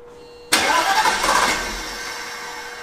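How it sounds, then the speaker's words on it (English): Old worn convertible's engine cranking and catching, a sudden loud burst of starter and engine noise that surges then settles into a rough idle, close by. "Just keep cranking until it stops."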